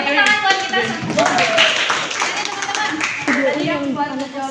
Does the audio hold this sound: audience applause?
yes